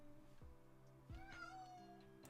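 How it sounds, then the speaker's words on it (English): A house cat meows a few times in quick succession, short rising and falling cries that sound faint and somewhat distant, with no talking over them. "That is my cat in the background."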